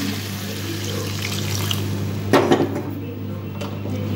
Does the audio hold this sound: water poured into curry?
yes